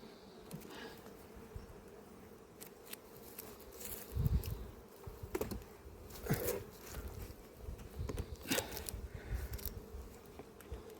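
Honeybees at an apiary hive, a faint, steady drone of buzzing wings with a few closer bees passing by, alongside scattered soft knocks and handling noises.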